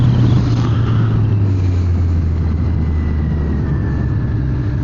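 Car driving home on a road, a steady low engine and road rumble with tyre hum that stays constant from inside the cabin, no talking.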